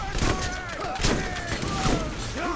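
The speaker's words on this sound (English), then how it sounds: "Have a grenade, buddy." A grenade explodes in the video game Borderlands amid busy combat, with several dull booming thumps and crackling bursts over a dense background of game sound effects.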